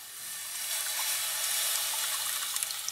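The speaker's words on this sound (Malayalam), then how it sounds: "ഒരു 2 കപ്പ് വെള്ളം ഒഴിച്ചിട്ട് അതിനൊന്ന് ഉരുക്കിയെടുക്കാം." Water pours in a continuous, fairly loud splashing stream onto jaggery in a heavy-bottomed pot, a steady rushing fill lasting a few seconds with no voices.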